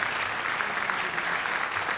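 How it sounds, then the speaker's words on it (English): At a community meeting about the Montecito debris flow, a crowd gives a brief, steady round of applause, with many hands clapping continuously at a fairly constant volume. "let's give them a round of applause."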